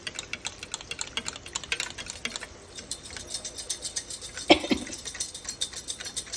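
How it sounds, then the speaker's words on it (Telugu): Curd being whisked with salt in a bowl for curd rice, a quick rhythmic run of close clicking and tapping strokes that pauses briefly and then continues, with no talking. "ఇలా గిలకరించేసుకోవాలండి బాగా."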